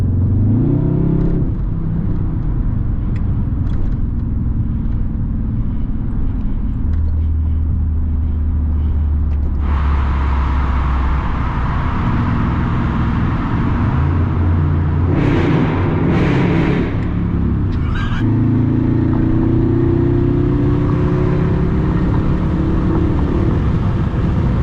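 Dodge SRT 392 V8 engine rumbling and revving loudly from inside the car, with a sharp rise in pitch around the middle and hard gear shifts, the engine drone continuous throughout without talk.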